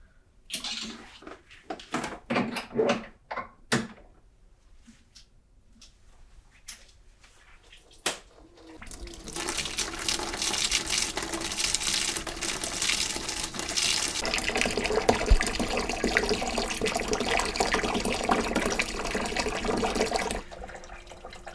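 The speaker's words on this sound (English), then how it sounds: "The brewing liquor is at target temperature and we'll transfer it now to the mash tun." Hot brewing liquor in a home brewery is transferred into a mash tun. A few knocks and clatters come first, then a loud, continuous rushing pour of water that runs steadily for about twelve seconds and stops.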